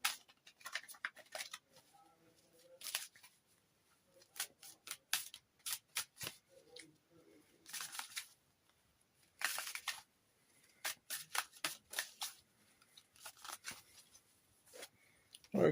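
Tarot cards are shuffled and handled from a deck, producing quick crisp flicks and snaps in repeated bursts with pauses between them, close and fairly quiet, with no talking.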